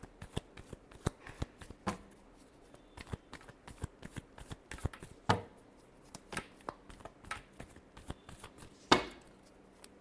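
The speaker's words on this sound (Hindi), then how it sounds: "Last shuffle." Tarot cards shuffled by hand during a Hindi reading, a steady series of crisp slaps and riffles close to the mic, several louder snaps among them, with no talking.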